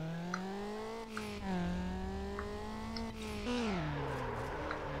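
A car engine in the video game Need for Speed Underground revs up and down in smooth, steady whines, rising and falling in pitch, loud and close, with no talking.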